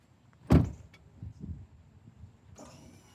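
A 2025 Ram 1500 Rebel GT pickup door shuts with one solid thump, followed by faint mechanical whirring as the Rough Country power running boards retract, ending in a brief motor hum.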